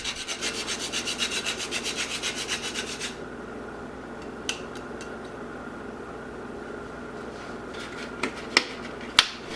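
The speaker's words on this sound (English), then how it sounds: "take a whole piece of nutmeg and grate half of it over the apples" Whole nutmeg is rubbed against a grater over apples in a kitchen, giving a quick run of rhythmic close rasping strokes that stops, followed by quiet with a few small clicks and taps.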